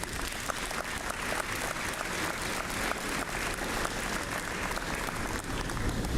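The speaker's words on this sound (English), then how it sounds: "Let's give all of them a round of applause." A large crowd at a high school signing day applauds steadily and loudly throughout, a dense wash of clapping with no pauses.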